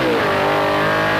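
A car engine drones loud and steady while driving, a dense, close rumble held for a short moment with no talk.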